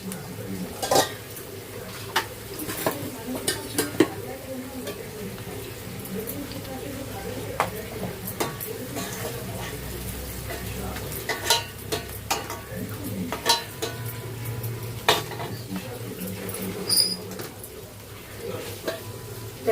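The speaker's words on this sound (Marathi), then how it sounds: "हा कांदा मस्त शिजून घ्यायचा" Onions for prawn masala fry in a pan, giving a continuous soft sizzle broken by frequent scraping and clinking stirs close by, while a person talks over it.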